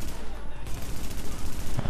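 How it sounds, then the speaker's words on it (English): Gunfire in The Division, a third-person shooter game: dense, continuous volleys of rapid shots with a steady loud roar throughout, no pause in the firing. "just start shooting them before they see us"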